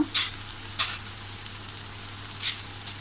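Cumin, coriander and garam masala powders sauté in a pan over a low gas flame, giving a quiet steady sizzle with a few brief scraping stirs, close and faint.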